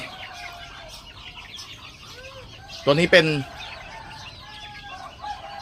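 Fighting cock breed chickens cluck and chirp steadily in a yard, with one loud close crow bursting out partway through, while someone speaks over them.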